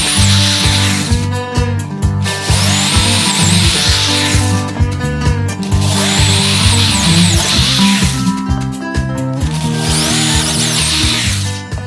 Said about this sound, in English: we'll get out the drill, and we'll make the holes we need to secure this baby